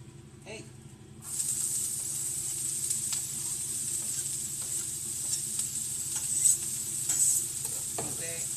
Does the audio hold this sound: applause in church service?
no